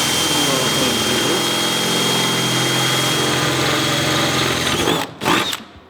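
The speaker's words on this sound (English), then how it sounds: "Take the drill bit." A power drill runs steadily, boring holes for M5 nutserts into the body panel of a four-cylinder Datsun 240Z, a loud continuous whine near the microphone that cuts out abruptly near the end.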